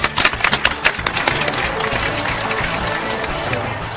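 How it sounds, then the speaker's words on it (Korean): A burst of clapping from a small group, sharp and scattered at first, then settling into a softer, denser patter. "박수!"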